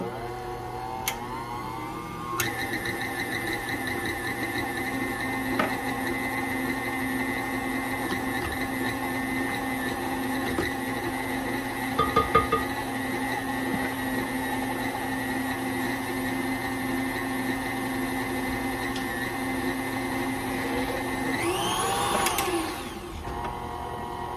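An electric mixer beats pumpkin cheesecake batter with a steady, close motor whine that runs unbroken, briefly shifting pitch near the end, with no talking.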